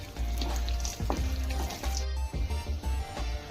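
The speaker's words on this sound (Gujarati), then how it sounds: "અને આને હું સાતળી દઈશ" Cashews, almonds and pistachios sautéing in hot ghee, a close, continuous sizzle with crackling bursts and brief stirring scrapes, no voices.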